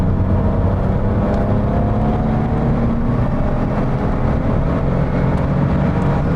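Inside a turbocharged Nissan 300ZX sports car, a loud, continuous engine drone and road roar hold steady throughout, with a faint rising whine as the car pulls under acceleration.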